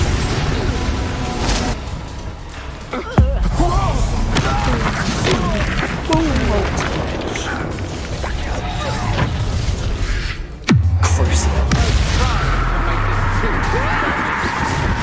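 Confringo fire spells burst during a Hogwarts Legacy fight, sharp blasts and thuds landing among clattering combat effects, with voices speaking over the action.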